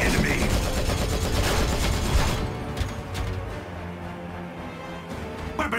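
Weapons fire in the sci-fi strategy game Regicide as a dense, continuous barrage of overlapping blasts and booms that thins out partway through, with game voices calling out over it.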